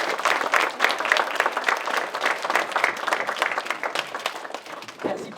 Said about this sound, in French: Je voudrais un tonnerre d'applaudissements pour eux, s'il vous plaît.